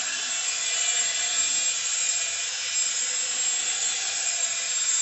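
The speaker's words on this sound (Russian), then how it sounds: "Таким способом перемешиваю." A yeast and sugar wash for moonshine is stirred with a mixing tool, making a continuous, even, hissing swish with no pauses, close and fairly loud.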